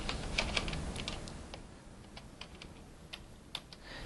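Light, quick clicks of numbers being typed on a computer keyboard, a short burst of keystrokes followed by sparse taps, close and fairly quiet.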